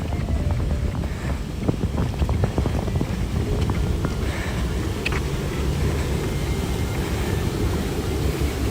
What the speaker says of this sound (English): ooh, nice little wind breeze.